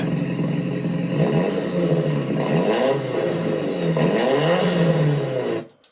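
JDM car engine fitted with a Vibrant titanium exhaust, revved in a series of rising and falling blips, loud and close, before cutting off abruptly at the end.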